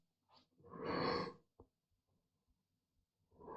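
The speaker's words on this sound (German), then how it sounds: "Ja, erstmal nochmal gähnen." A person yawns once, a long breathy exhale swelling and fading over about a second, followed by a small click and quiet breaths, then another breath at the end.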